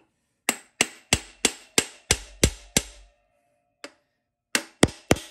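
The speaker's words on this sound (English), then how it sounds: "I'll use a hammer with a brass drift to seat the pump" Sharp metallic hammer taps on a brass drift seating the pump in a GM TH350 transmission front case, eight evenly spaced strikes, a pause with one light tap, then three more.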